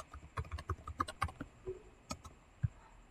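Keystrokes on a computer keyboard while entering control names in a C# form designer, scattered clicks in uneven bursts at moderate level with no talk over them.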